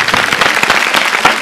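A studio audience of girls at a televised game show bursts into dense, lively applause, with many hands clapping at once in a loud, continuous wash.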